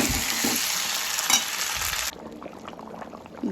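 Egg curry in a pot gives a loud, dense sizzle and bubbling hiss for about two seconds, then drops abruptly to a quieter, softer simmer with scattered pops.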